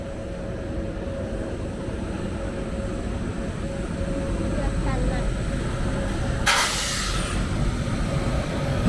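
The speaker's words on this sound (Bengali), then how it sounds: "10 মিনিট দাঁড়িয়ে থাকার পর ট্রেন সব সমস্যা মিটিয়ে আবার চলা শুরু হলো।" The East Coast Express passenger train pulls away after a halt, giving a steady, dense rumble with a faint sustained tone. A brief hissing burst comes near the end.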